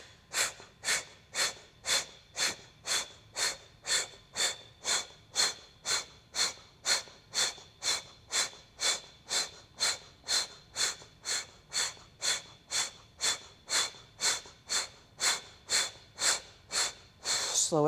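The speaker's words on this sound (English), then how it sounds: "Short, forceful exhales begin." Rapid, forceful exhales from a breathing exercise, about thirty sharp puffs at a steady quick rhythm, close and fairly loud, with no talking.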